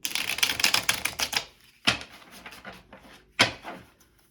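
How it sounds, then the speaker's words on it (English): Rapid riffling of tarot cards in a quick burst, followed by two sharper bridging snaps with quiet pauses between, close to the listener. "I'll do a little quick shuffle for you all here."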